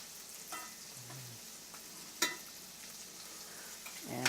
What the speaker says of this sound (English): So we'll turn them around and they're just nice and sauteed here a little bit